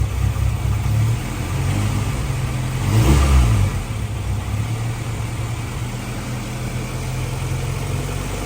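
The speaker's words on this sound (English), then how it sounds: "It just sounded like it was missing there for a second." A 1990 Honda CRX with a B18C5 engine revs loudly and steadily up close, its note briefly stumbling as the engine misses for a moment partway through before settling back into a continuous rumble.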